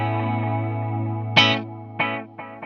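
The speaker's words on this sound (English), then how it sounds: "this has a slightly darker delay with what we call the diffusion, or the sort of spread of those delays up" Electric guitar through a dark, diffused delay pedal: a sustained chord hums under three sharp plucked notes, each followed by repeats that smear and wash into one another, loud and close.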